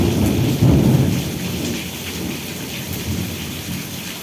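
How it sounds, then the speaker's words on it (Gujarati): Heavy monsoon rain with rolling thunder pours steadily in a village in Ranpur taluka, Botad district, Gujarat, the season's first rain; a loud thunder rumble swells near the start over continuous dense rainfall, with no voices. "કડાકા ઉપર કડાકો, ભડાકા ઉપર ભડાકો। આ પહેલો વરસાદ છે અમારે।"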